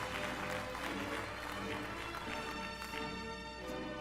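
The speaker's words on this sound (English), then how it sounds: "Round of applause." Audience at a graduation ceremony applauding, a dense, continuous wash of many hands clapping that holds steady throughout, heard from within a large room.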